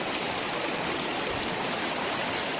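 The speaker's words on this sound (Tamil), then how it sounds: "இந்த அருவி வந்து மேல இருந்து 3 பகுதியா கீழே போகுது." Visharam waterfall in Vellore, Tamil Nadu, pouring down in three streams, a dense, steady roar of rushing water that fills the scene continuously with no voices.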